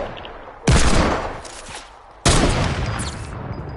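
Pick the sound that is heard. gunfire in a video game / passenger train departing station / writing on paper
gunfire in a video game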